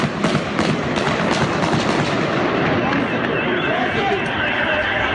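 Gunshots crack in a dense, continuous barrage during a police shootout with terrorists in İzmir, loud and close, with shouting voices mixed throughout.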